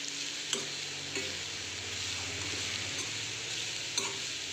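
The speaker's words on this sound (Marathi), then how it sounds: "आता आपण आपला मुळा ह्याच्यात टाकून घेऊया त्याला चांगलं आपलं परतून घ्यायचं आहे" Radish being sautéed in a pan for a winter vegetable dish, a steady sizzle under repeated scraping stirs with a few sharp clinks of the spoon against the pan.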